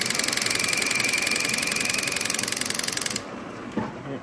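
A milling machine takes a light 0.4 mm cut, giving a loud, steady rapid pulsing machining rattle for about three seconds before it abruptly drops to a quieter hum with a brief clunk.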